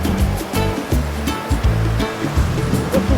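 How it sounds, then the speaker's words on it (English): Small waterfalls on a stream in the Shropshire Hills in autumn give a steady, close rush of tumbling water with a continuous low roar and splashy texture throughout. "Are these waterfalls? They're little waterfalls."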